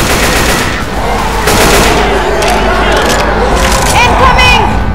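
Video-game gunfire aimed at a tank target, with rapid machine-gun bursts and cracking shots packed tightly and loud over a constant roar of battle.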